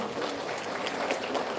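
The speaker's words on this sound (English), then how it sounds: "A big thanks and a round of applause to the State Committee, to the State President, Charles Bingrove," An audience applauds at a political party meeting in Shillong, a steady dense wash of clapping that holds evenly throughout at moderate loudness.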